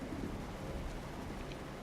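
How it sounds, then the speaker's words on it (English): Heavy rain pours steadily with a low rumble of thunder beneath it in the American Truck Simulator video game. The downpour forms a dense, continuous wash with no voices. "it is pouring rain"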